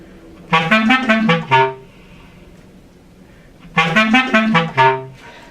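Two short melodic bass clarinet phrases, low and reedy, each swelling slightly before tapering off, separated by a brief pause.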